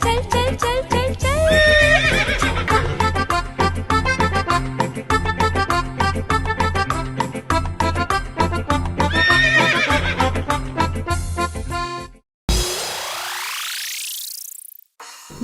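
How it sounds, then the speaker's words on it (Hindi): A horse neighs and hooves clip-clop in a steady rhythm over bright children's rhyme music. Near the end the music stops and a rising whoosh effect follows. "चल मेरे घोड़े टिक टिक टिक"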